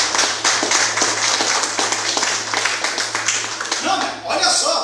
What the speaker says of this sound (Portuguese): palmas para Jesus amado